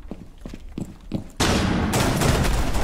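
Several sharp gunshots crack in quick succession in Rainbow Six, then a loud, dense burst of continuous gunfire fills the rest of the clip.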